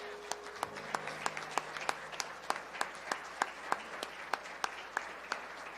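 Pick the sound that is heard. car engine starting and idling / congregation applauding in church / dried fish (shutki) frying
congregation applauding in church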